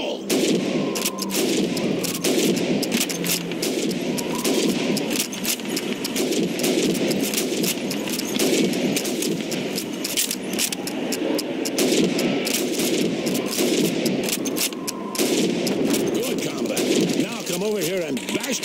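Rapid rifle gunfire from Call of Duty 2 Russian training, shooting helmets, crackles in dense repeated bursts over a steady background din, loud and continuous.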